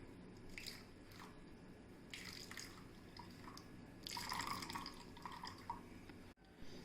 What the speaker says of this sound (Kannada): ಶುದ್ಧವಾದ ಕಾಟನ್ ಬಟ್ಟೆಯನ್ನು ತೆಗೆದು ಅದರಲ್ಲಿ ಹಾಕಿ ಹಿಂಡ್ಕೊಳ್ಬೋದು